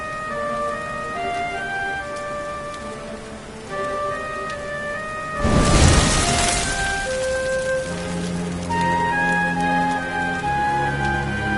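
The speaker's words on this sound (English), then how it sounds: "Looks like the rain's dying down." Rain falls steadily in a video game scene, with a dense hiss under a layered musical score and a brief loud crash midway. No speech is heard.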